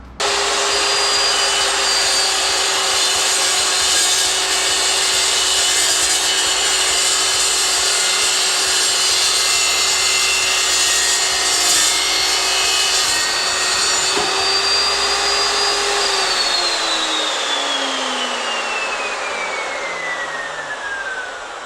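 An Evolution S355CPS chop saw cuts through 3mm by 50mm steel box section with a loud, continuous high whine and grinding rasp, then the motor winds down as the blade spins to a stop.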